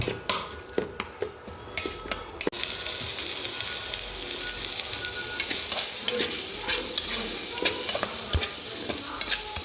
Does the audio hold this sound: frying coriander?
yes